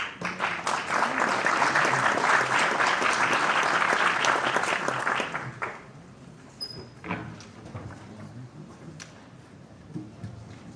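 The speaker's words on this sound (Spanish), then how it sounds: "Le damos la bienvenida con un fuerte aplauso." Audience clapping at a formal exhibition event on a press law, loud sustained applause for about five seconds that then thins out into scattered claps and quiet room noise.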